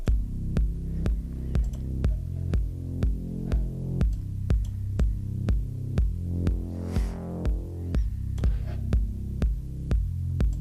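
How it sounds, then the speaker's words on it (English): Electronic dance beat in FL Studio, a steady four-on-the-floor kick with a bass line pumping under sidechain compression, each bass note ducking on the kick in a loud, even rhythm with no voices. "And sidechain kick is on, the normal kick is on, and the bass is on."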